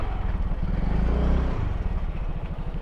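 A Yamaha Fazzio scooter engine idles and briefly revs up close by at an LTO pre-inspection area, a steady pulsing chug that swells around the middle and then settles back.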